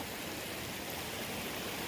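A forest creek along a trail in the Kinglet Lake area of Alberta flows steadily as a continuous broadband rush and hiss, with no other sounds.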